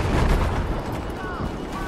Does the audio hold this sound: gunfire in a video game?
yes